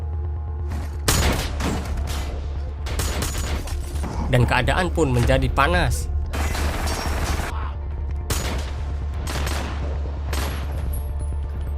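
Gunfire from a film shootout in which a man takes down a group of robbers near a car, with sharp shots and bursts spread through the scene under an Indonesian narrator's voice and music.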